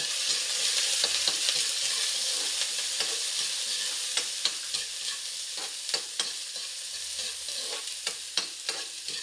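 Garlic browning with onion sautéing in a pan, a steady close hiss of frying broken by repeated sharp scrapes and taps of a spoon stirring, no voices.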